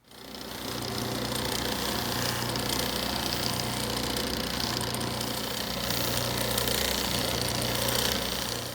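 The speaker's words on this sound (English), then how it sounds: "I'm going to take it to the buffer." A cheap bench buffing wheel polishing a CA-finished wood pen blank, a loud steady motor hum with a constant whirring drone and rough friction noise throughout, no talking.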